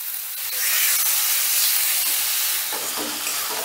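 A spice paste of tomato, ginger and garlic fries in a pan, giving a steady, close sizzle and hiss with faint stirring scrapes throughout, no voices.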